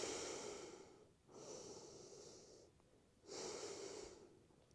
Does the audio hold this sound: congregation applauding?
no